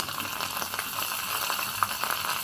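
Steady hot-oil frying with scattered pops and crackles, like curry leaves spluttering in a pan close by, no voices.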